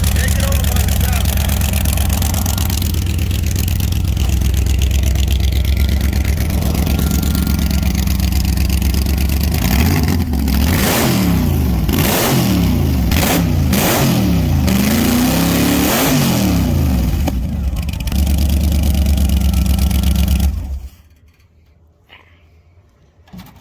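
A turbocharged muscle race car engine running steadily, then revving hard several times in a row with rising and falling pitch, loud and close, before it cuts off abruptly near the end.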